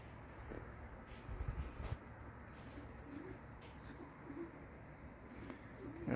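Young racing pigeons cooing softly after a bath, low murmuring calls repeating through a steady background hum with a few faint chirps and no talking.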